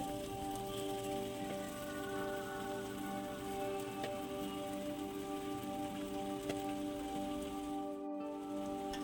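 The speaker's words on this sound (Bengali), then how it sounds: "এই পর্যায়ে এবারে ভেজে রাখা ভেটকি মাছের কাঁটাগুলোকে দিয়ে দিতে হবে।" Pre-fried bhetki fish bones sizzle in a spice paste that has released its oil, a dense, steady hiss running unbroken at close range with no voices.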